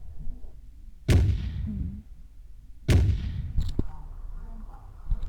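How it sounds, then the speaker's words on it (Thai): Two heavy gunshot-like booms in Minecraft, each a sharp blast with a fading tail, roughly two seconds apart, followed by a smaller pop, over a low background rumble. "ยิงขึ้นฟ้าใส่ฮอเลย"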